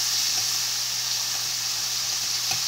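Chicken pieces seasoned with salt and pepper browning in a hot pan for orange chicken, giving a steady close sizzle with faint soft bumps as the meat settles.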